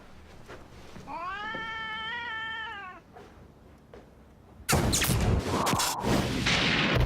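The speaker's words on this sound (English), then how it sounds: "his mother's cat" A house cat meows in a long, wavering call lasting a couple of seconds, followed by a quiet gap and then a loud burst of crashing, blasting noise.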